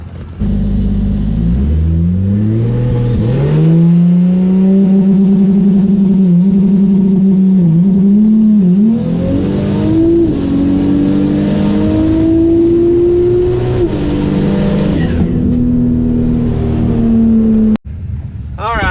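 A drag race car makes a pass down the strip, its engine loud and close, climbing in pitch through the gears in long rising surges, with a brief cut near the end.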